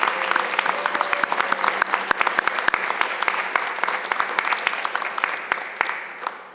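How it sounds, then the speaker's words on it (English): An audience at a manufacturing awards ceremony claps loudly and continuously, a dense even patter of many hands from a large room with no cheering. The applause fades slightly toward the end. "Let's give a round of applause to all the participating companies that were in the contest this year."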